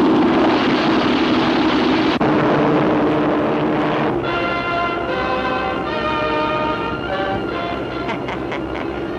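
Giant bomber aircraft taking off in a Superman cartoon, a loud continuous engine roar and rumble throughout, joined midway by layered tonal whine and bell-like rhythmic tones.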